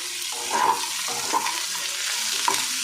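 Onions with a little salt frying in a pan for a prawn-and-onion dish, a steady close sizzle with a few stirring scrapes and clinks of a spatula on the pan.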